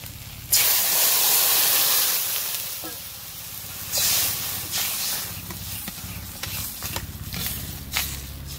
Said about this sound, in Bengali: লাল লাল হয়ে গেছে, এবার জল দেবো।